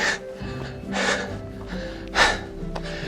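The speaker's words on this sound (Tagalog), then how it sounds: "Grabe yung hingal." Heavy, labored breathing up close, several loud gasping breaths in a row with faint background noise.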